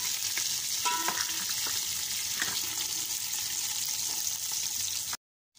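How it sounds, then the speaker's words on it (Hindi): Onions fry in spiced oil in a pot with a steady, moderately quiet sizzle and occasional stirring clinks, cutting to silence at the very end. "मसालों का कलर निकल आया, अब हम लोग डाल रहे हैं प्याज"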